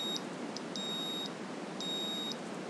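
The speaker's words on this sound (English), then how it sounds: "So this is my obstacle detector, or you can say car reverse alarm." Arduino-built obstacle detector acting as a car reverse alarm, giving a sequence of short and longer high-pitched electronic beeps, loud and alone.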